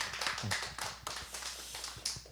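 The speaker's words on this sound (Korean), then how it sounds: "사랑의 왕으로 우리에게 오신 아기 예수님께 영광의 박수를 올려드리기 원합니다" A church congregation claps during a Christmas service, with distinct, fairly close hand claps in an uneven rhythm, soft and short-lived.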